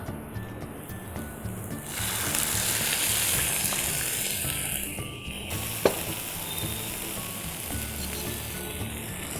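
Onion and tomato sizzle steadily in a pan for a mushroom and pea curry, with a louder, denser fry once the tomato goes in and a single sharp clink partway through; no one speaks.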